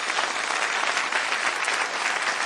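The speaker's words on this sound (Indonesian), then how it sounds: "Mari kita beri tepuk tangan." Audience applause at a city-level Chinese painting art festival competition, a dense steady wash of many hands clapping with no break, fairly loud and close.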